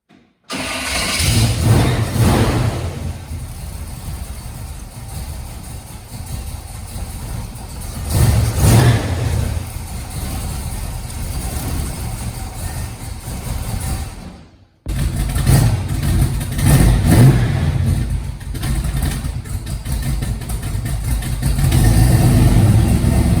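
A 1967 Chevrolet Chevelle SS is started, then revs and drives with a loud, steady engine drone that swells several times. A brief cut near the middle is followed by more continuous engine noise on the road.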